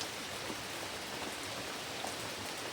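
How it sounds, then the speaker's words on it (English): Steady rain on a rainy morning outside a woodland shelter, a soft continuous hiss of drops on the surfaces around, fairly quiet and even with no talking. "it's a very rainy morning and I'll not be setting off in the rain"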